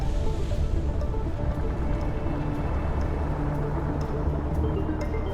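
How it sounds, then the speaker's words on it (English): Huge ocean waves roar in a continuous, heavy wash of surf, a deep unbroken rumble without distinct pauses. "waves that slam against these isles tower 100 meters tall, thundering walls of water"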